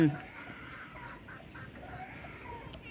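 Stray fighting-breed chickens, penned together for two days, cluck and squawk in a continuous, fairly faint murmur. One sharper squawk comes right at the start.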